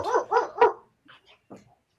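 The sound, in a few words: dogs barking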